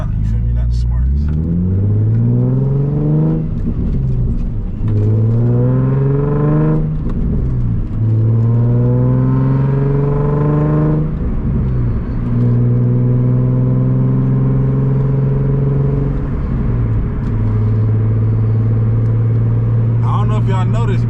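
A Nissan 350Z HR engine revs up repeatedly while driving, rising in pitch through each gear and dropping sharply at each of several shifts, loud and close throughout.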